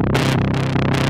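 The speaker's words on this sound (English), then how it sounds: "My Moog synths are gonna sound like this." A Moog synth runs through a Dr. Freakenstein Chop Fuzz pedal, giving a thick buzzing fuzz tone with bright gated bursts that pulse roughly every half second over a steady low drone.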